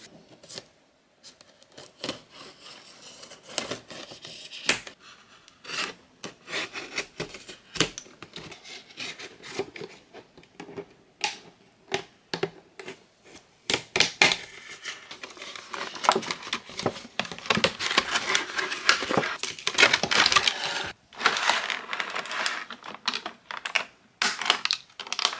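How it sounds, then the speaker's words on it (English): A Miraculous Ladybug Cosmo Bug doll is taken out of its box, heard as close, busy crinkling, tearing and clicking of packaging in rapid bursts that grow louder and denser toward the end. "So let's go ahead and take her out of the box."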